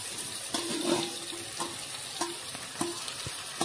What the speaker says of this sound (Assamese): এতিয়া মিডিয়াম লো ফ্লেমৰ ভিতৰতে মই মাংসখিনি ধুনীয়াকৈ লৰাই ভাজি থাকিম।